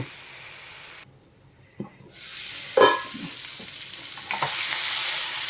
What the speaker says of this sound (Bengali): পেঁয়াজ পাতা আর মটরটি একটু ভাজা ভাজা হবে